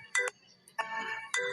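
A mobile phone ringtone in a cartoon comedy plays as three short electronic melodic bursts with brief gaps between them, clear and close with no talking.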